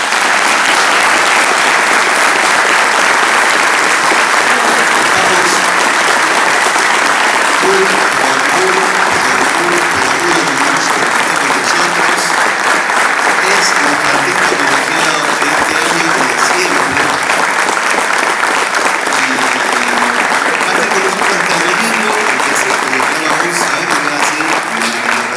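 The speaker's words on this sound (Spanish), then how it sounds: "La única forma que puede terminar esto es con un aplauso." A crowd at the Crack Bang Boom comic convention applauds loudly to close a panel with José Luis García López, a thick, unbroken wash of clapping with scattered cheers and voices mixed in, lasting about twenty-five seconds.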